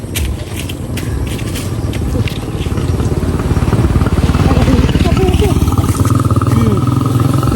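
Motorcycle passing by outdoors, a loud pulsing engine drone that grows nearer and stronger over several seconds, with people talking over it.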